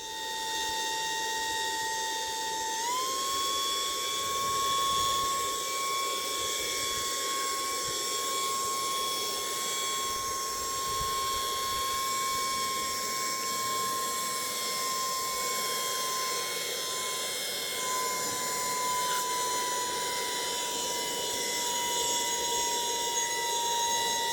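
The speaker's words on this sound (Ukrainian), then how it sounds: "Бачили, наскільки потужно здував пісок і невеличкий щебень" A portable AliExpress vacuum cleaner running in blower mode to clear sand and small gravel gives off a steady, loud motor whine with a high tonal hum that rises slightly in pitch after a few seconds and holds throughout.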